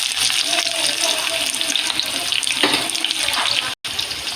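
Chopped onion hits hot oil and fries with a loud, steady, broadband sizzle that runs almost without a break and cuts out briefly near the end.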